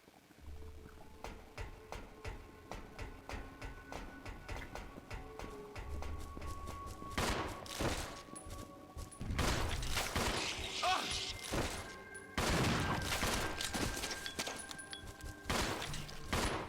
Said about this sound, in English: these I'm just gonna gun down